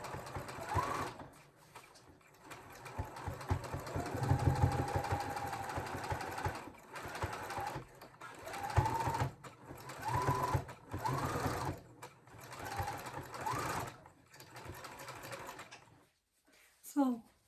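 A home sewing machine stitches a hem on a pair of jeans, running in slow bursts with pauses between them, and someone talks quietly at intervals over and between the runs.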